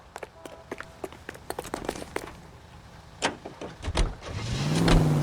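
Car from the L.A. Noire game: several door-like thumps and footsteps early on, then the engine starts up and revs louder toward the end as the vehicle pulls away.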